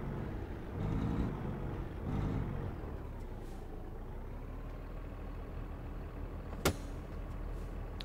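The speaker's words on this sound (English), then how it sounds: "See, I really like a downshift noise" A truck's engine rumbles low and steady in American Truck Simulator, swelling twice as it downshifts, then settling into a quiet idle-like drone with one brief sharp click near the end.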